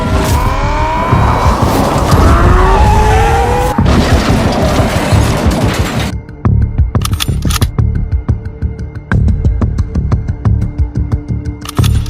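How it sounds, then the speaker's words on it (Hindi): Ferrari sports car in the video game GTA 5, engine roaring loud with squealing tires skidding in the first half, then a quieter stretch of sharp clicks and engine hum. "अपनी फरारी यहाँ पर आ चुकी है।"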